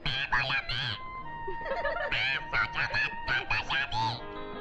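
A talking parrot squawks and calls in a series of loud, close, voice-like bursts with short pauses between them.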